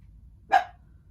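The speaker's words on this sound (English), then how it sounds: "Please excuse my dog." A single short, sharp bark from a pet dog named Bailey, close by and loud, cutting through an otherwise quiet room.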